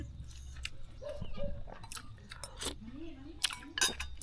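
Close, crunchy chewing and biting on Thai larb made with fresh fish and fragrant leaves, moist irregular bites with soft clicks, mixed with some talk.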